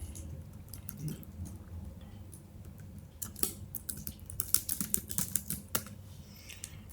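Fingers type on a computer keyboard, entering a passenger name while booking a train ticket. The keys click quietly and irregularly at first, then tap faster and louder in a close run, with no talk.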